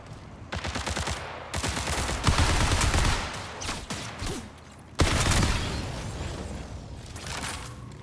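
In the shooter game Marathon, rapid automatic gunfire rattles in long, loud bursts, one stream of shots stopping briefly before a second hard burst starts up and trails off.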